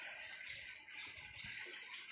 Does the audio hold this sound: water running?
yes